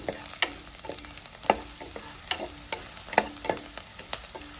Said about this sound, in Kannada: ಚಿಕ್ಕದಾಗಿ ಕಟ್ ಮಾಡಿಕೊಂಡ ಬೆಳ್ಳುಳ್ಳಿನ ಹಾಕಿ ಸ್ವಲ್ಪ ಫ್ರೈ ಮಾಡಿಕೊಳ್ಳಿ.